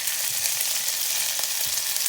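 Pepper sautés in a little oil for Trinidad pastelles, a dense and even sizzle heard up close, without a break and with no voices.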